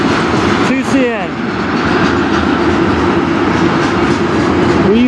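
A CN freight train rolls past in Sarnia, Ontario, a loud, steady rumble of wagons with a brief wheel squeal near the start, close by and continuous.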